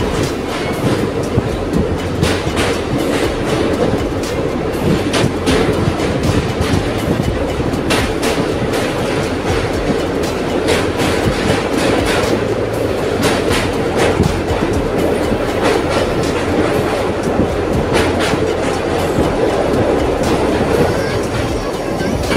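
A train runs steadily on rails in a loud, continuous roar, its wheels clicking in irregular clickety-clack beats throughout, heard from inside.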